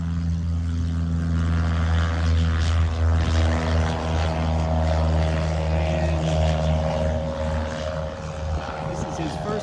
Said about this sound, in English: Oh, nope, they're taking off.